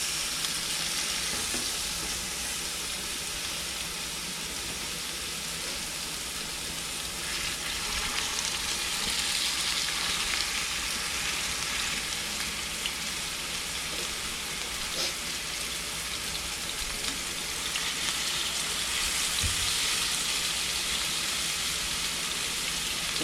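Pork ribs frying in hot oil over a fire, a steady dense sizzle and crackle that holds loud throughout with small pops, no talking.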